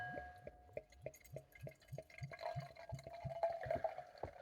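An 11% Sinnister Brew beer is poured into a glass: a quiet, close stream of rhythmic glugging pulses, about two per second, settling into a fuller filling sound as the glass fills.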